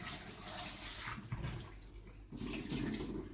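Parboiled potatoes are rinsed under a running tap to wash off starch, a steady splashing water flow at close range with a brief lull midway before the stream picks up again.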